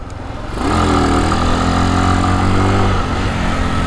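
A motorcycle engine revs hard on the throttle for a wheelie, a steady loud mechanical drone that swells in after a quiet start and holds close and continuous with a slight pitch sweep.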